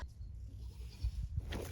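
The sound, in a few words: goats bleating behind the house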